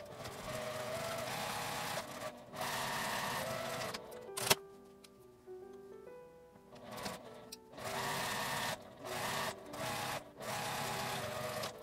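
A sewing machine stitches along the folded edge of fabric for a coin-purse wallet bag, running in several bursts of rapid whirring with short pauses between them, close and fairly quiet.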